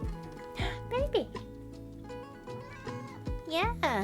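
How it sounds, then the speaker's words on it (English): A pet cat meows several times with rising and falling cries, close by, over low background music, while someone speaks affectionately to it. "My kitty baby."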